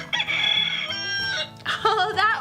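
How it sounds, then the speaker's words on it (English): A rooster crows a long, loud cock-a-doodle-doo close by, with a short second crowing burst following after a brief break, heard alone without talk. "Let's see what the rooster says."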